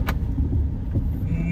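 A car drives along a road on a long trip toward Allahabad, heard from inside the cabin. A steady, close, low engine and road rumble fills the whole moment, with a brief click at the start.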